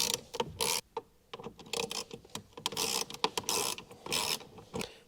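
A ratchet wrench with an 8mm socket works screws loose on an SN95 Ford Mustang, making close, quick bursts of clicking separated by brief pauses and repositioning noises, with no talking.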